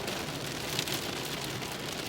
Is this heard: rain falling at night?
yes